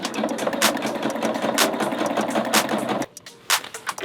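A sewing machine stitches a curtain with a steady fast mechanical whir and a regular needle clatter. After about three seconds it drops off and then starts again in short bursts. It is close and loud, with no talking.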